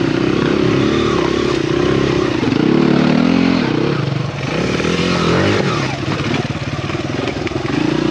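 A Honda XR100R dirt bike rides a slick black-diamond hard enduro loop in December, its small engine buzzing loud and close throughout, revving up and down with shifting pitch over clatter from the rough trail.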